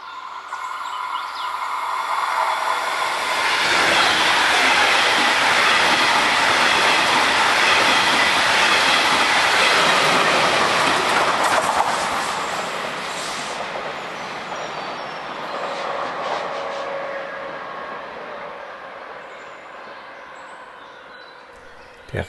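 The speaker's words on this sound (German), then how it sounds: "Der Regionalexpress 50 auf die Minute pünktlich, aber anscheinend kam er nicht schnell genug aus dem Bahnhof raus" A regional express train on the Kinzigtalbahn line in Germany passes close by with a loud, sustained rumble and hiss that swells, holds, then slowly fades as it moves away.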